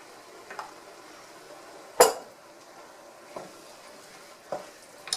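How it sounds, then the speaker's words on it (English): A spoon stirs ketchup into browned sloppy joe meat in a pan, giving a few soft scraping strokes and one sharper clack of utensil on metal over a quiet low sizzle. "So I'm going to put a cup and a half in there and mix that up."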